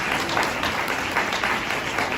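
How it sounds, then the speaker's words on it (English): Audience at a museum talk breaks into dense, steady applause, a continuous wash of many hands clapping at fairly loud level throughout. "So Darren, round of applause if you're here."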